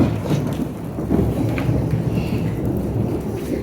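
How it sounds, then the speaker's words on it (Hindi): A heavy summer downpour, the first of the season in Pakistan, makes a loud, steady roar of rain on surfaces. A deep rumble of thunder rolls underneath throughout. "बारिश तेज हो गई"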